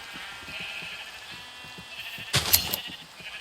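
Sheep bleat in a Minecraft-style block-building game on an island farm, one loud bleat standing out near the end over a quiet ambient backdrop, with fainter bleats before it.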